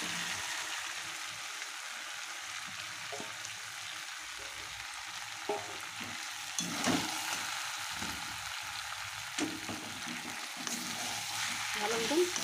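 Chicken pieces fried and stirred in a pan until well browned, for a jackfruit and meat curry: a steady broadband sizzle runs throughout, broken by scraping stir strokes and clatters from a utensil, with no speech.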